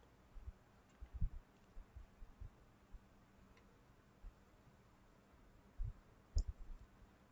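Faint clicks of a computer mouse come at scattered moments against a quiet hiss, with a couple of sharper clicks near the end as a run is started in impedance analyzer software.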